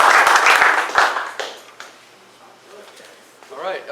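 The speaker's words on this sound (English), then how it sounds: "I think another round of applause," Applause from a woodworking club audience for a turner of captive wooden spheres, loudest at the start then tapering into scattered claps and murmuring voices, with a short rise again at the end.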